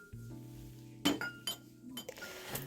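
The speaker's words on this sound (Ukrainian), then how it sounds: "Склянка скляна для коктейлю на об'єм 240 мл по 22 гривні стакан скляний низький з випуклим дном" Low glass cocktail tumbler, 240 ml with a convex bottom, giving a few bright clinks and taps against other items, sharp isolated knocks spaced about half a second apart over a quiet background hum.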